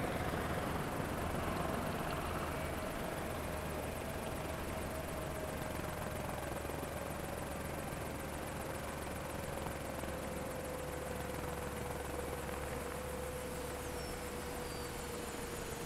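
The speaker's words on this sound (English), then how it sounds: "I'm going to shut down the engines of the Osprey and a Cadbury G2 helicopter on the runway at the same time." Engines of an MV-22 Osprey and a helicopter shut down together on a runway in the flight simulator MSFS 2020, a steady turbine whine slowly sliding lower in pitch over continuous rotor and engine hiss.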